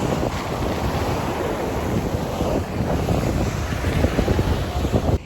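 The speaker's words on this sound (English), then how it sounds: "I can hear the ocean." Ocean waves in Zanzibar wash and roar continuously, mixed with heavy wind buffeting the microphone.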